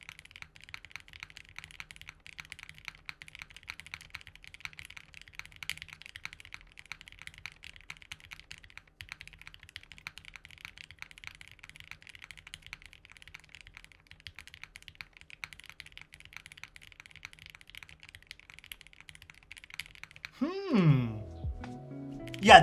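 Typing on a Haven65 mechanical keyboard, a steady run of soft, quick key clacks with light and harder taps, close-miked and quiet, ending with a brief louder knock and rustle.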